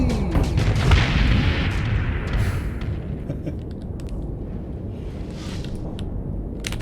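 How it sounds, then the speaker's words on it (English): Reaper torpedoes in the space game Starsector launch and detonate in a heavy, continuous roll of deep booming blasts, loud at first and then easing into a steady rumble scattered with sharper crackling hits. "How many Reapers can I fire at once?"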